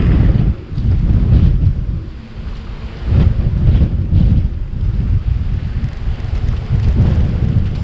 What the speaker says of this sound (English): the wind almost just stopped my bike entirely